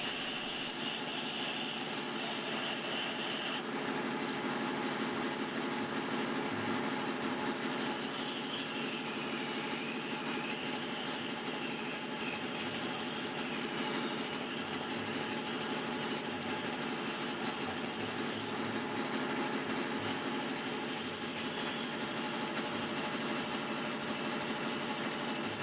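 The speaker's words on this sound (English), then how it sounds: "we're going to go ahead and use sandpaper to get rid of that stringiness" Sandpaper pressed inside the narrow opening of a wooden flowerform vase spinning on a lathe, a continuous hissing rub over the steady lathe drone, close and unbroken, with slight shifts in tone as the pressure changes.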